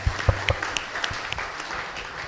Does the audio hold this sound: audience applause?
yes